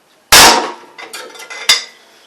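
A hammer strikes an old Briggs and Stratton small engine: one loud sharp metallic whack rings out close up, followed by a few lighter clinks and a second crisp hit.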